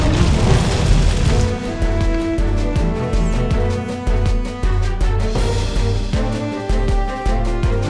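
Explosions chain through a burning chemical refinery packed with toxins and gasoline in the firefighting game Fire Department 3, a loud run of heavy booms and cracking bursts hitting in quick succession under a dense continuous roar.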